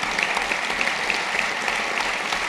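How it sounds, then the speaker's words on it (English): An audience claps warmly for four panellists at the close of a public discussion event, a dense steady patter of many hands sustained throughout without a break. "Can I ask you all to give a very warm round of applause to Zoe Edwards, Fraser Johnston, Dr. Amy Jac"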